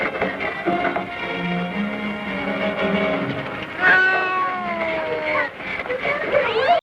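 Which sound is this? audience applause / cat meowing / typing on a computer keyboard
cat meowing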